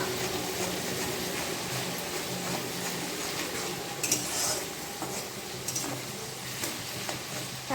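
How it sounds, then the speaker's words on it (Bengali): Potatoes stirred continuously as they fry at high heat in a pan for crispy fried potatoes, a steady sizzle with scraping and clinks of a utensil against the pan, a few louder scrapes near the end, no talking. "আর কন্টিনিউয়াসলি এটাকে নাড়াতে হবে। পুরো হাই হিটে করতে হবে।"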